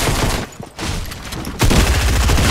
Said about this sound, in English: Oh, my shotgun hit him for 20.